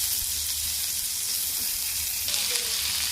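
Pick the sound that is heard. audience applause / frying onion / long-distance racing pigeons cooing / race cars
frying onion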